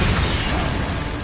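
A Bombarda spell blast in the Hogwarts Legacy video game, a short, dense, loud burst of explosive rumble and crackle filling the moment.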